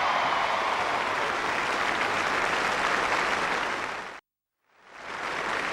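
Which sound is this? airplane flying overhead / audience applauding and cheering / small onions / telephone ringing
audience applauding and cheering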